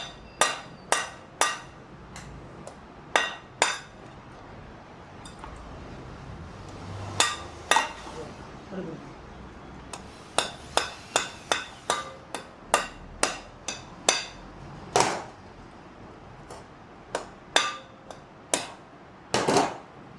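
A metal hammer strikes a rivet, setting a chain link on a Royal Enfield Himalayan 450 during a chain and sprocket change, ringing out as sharp, loud, close taps in irregular bursts over about twenty seconds with short pauses between groups.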